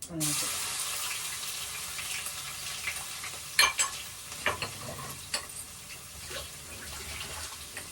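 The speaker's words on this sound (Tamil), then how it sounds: "கடுகு நல்லா பொரிஞ்சிச்சு" Mustard seeds crackle and sizzle in hot oil for a Kerala-style seafood curry, a continuous soft hiss dotted with sharp popping bursts, fairly faint and close, with no talking.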